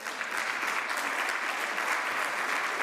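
Steady, dense applause from an audience in a hall, continuous and fairly loud throughout with no voices rising above it.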